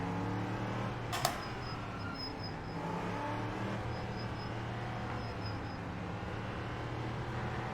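Racing car engine in a video game idling steadily with a low rumbling drone throughout, a brief sharp click near the start, sounding close and constant with no voices.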